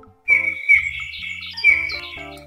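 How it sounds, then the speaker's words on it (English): A bullfinch sings a few short, high whistled notes in separate bursts, fairly close and clear, over soft background music. "Bullfinch."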